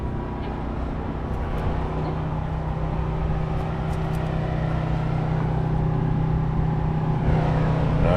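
A big-block C20 truck with a tunnel ram idles and rumbles with a deep, steady engine drone at a drag strip, rising slightly in intensity toward the end.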